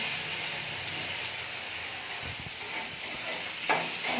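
Bitter gourd sizzles in a pan, a steady soft hiss of frying with a few faint stirring scrapes and a brief clatter near the end.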